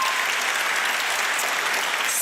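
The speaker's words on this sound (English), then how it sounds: "You guys can clap for yourselves" A room full of people claps for themselves at the Voscars 2021 ceremony, a dense, steady wash of applause sustained evenly for about two seconds with no voices on top.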